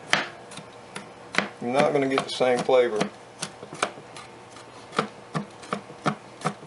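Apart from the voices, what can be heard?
chopping fresh garlic with a knife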